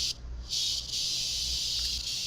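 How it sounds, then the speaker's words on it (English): Cicadas drone steadily outdoors in a loud, continuous high buzz that briefly dips near the start and then holds, with a low background rumble beneath and no talk. "You don't hear that's bugs outside. Yeah, cicadas, ain't it?"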